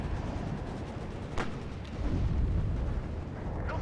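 Battle noise from the WARNO war game: distant explosions and gunfire rumble in a dense, continuous wash, with a few sharper bursts and a swell of heavier booms partway through, and no talking.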